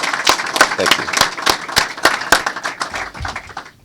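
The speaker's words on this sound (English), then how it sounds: "join me in giving a round of applause for your Chancellor, Chancellor Martling, for his leadership of" An audience at a university press conference applauds, with a steady patter of clapping hands close by that fades toward the end.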